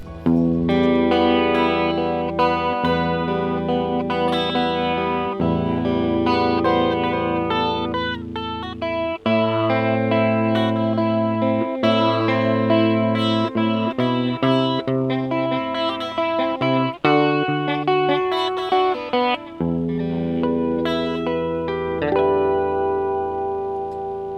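An electric guitar plays chords and melodic runs through a budget Kokko chorus pedal, a shimmering chorus effect, continuous and clear with no talking.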